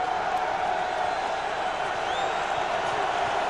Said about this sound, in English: New England crowd making some noise as we come up on 8 minutes to play.